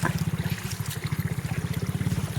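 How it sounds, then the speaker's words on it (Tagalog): Floodwater left by a typhoon runs over a road that has turned into a stream, a close, rapid rhythmic trickling and sloshing with a pulsing beat throughout. "Sa kalsada na naging sapa."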